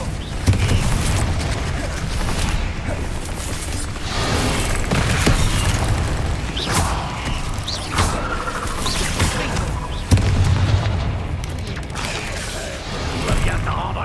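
Confringo fire-spell explosions in the Hogwarts Legacy video game, dense booming blasts and clattering debris that run continuously, loud and close, with no talking.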